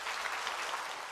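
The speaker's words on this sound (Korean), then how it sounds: "나오실 때 우리 큰 박수로 한번 격려하실까요?" Church congregation applauding at a Wednesday worship service, a steady wash of many hands clapping at a moderate, even level with no voices over it.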